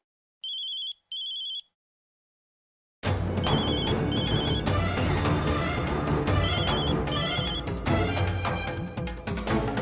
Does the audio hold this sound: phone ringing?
yes